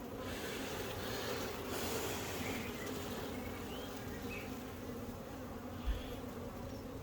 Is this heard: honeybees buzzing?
yes